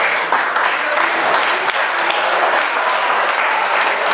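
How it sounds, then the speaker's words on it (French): Dense, steady applause from a seated crowd at a fifth-anniversary dinner for a fishing club, loud and continuous throughout with no break or fade. "on va toutes les applaudir tout ensemble après"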